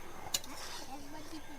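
A spoon stirs amla pickle and ground spices in a pan, giving a faint scraping and one sharp metallic clink early on against a soft, steady background.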